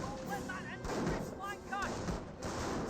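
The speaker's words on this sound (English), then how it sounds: "Are all these guys firing? Yes, they're all firing." Infantry squads trade fire in the Company of Heroes strategy game, distant rifle and artillery-like booms rolling in uneven bursts beneath a commentator speaking throughout.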